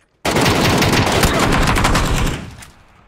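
Gunfire in a shooter video game during a squad firefight: a sudden, loud burst of rapid automatic shots that rattles on for about two seconds, then tapers away into quiet.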